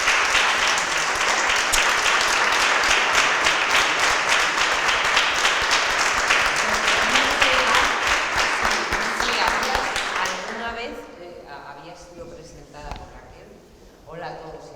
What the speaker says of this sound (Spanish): Las recibimos, por favor, con un aplauso.